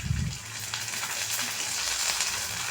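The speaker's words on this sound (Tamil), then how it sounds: "அதை இப்போ நான் பொரித்து காட்டுறேன்." Crispy appalam (papad) frying in hot oil, giving a steady close sizzle with fine crackle throughout and a brief low stir or bubble near the start, with no voices.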